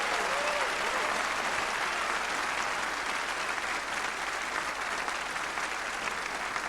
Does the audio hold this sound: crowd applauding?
yes